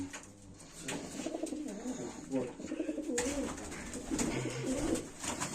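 Baku fighting pigeons coo repeatedly and close by, a low throaty burbling under steady conversation between several people nearby.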